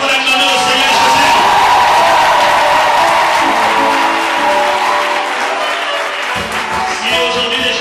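A church congregation applauds and cheers in acclaim, a dense, loud wash of clapping and voices that holds steady before thinning toward the end.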